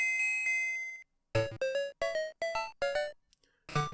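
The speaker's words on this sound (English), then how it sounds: "wait until I can get that bell" A chiming bell tone from Super Mario Land 2: Six Golden Coins rings out as the bell is collected, a sustained ding fading away, then a quick string of five bright bleeping game jingles in steady rhythm.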